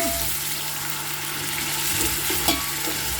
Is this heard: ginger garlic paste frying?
yes